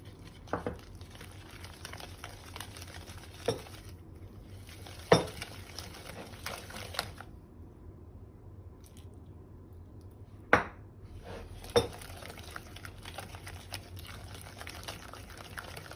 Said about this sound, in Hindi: इन चीज़ों को मिक्स करते हैं और थोड़ा थोड़ा दूध डाल के इसका बैटर बनाते हैं।